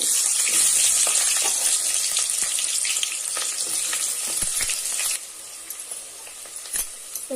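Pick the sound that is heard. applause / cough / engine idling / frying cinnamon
frying cinnamon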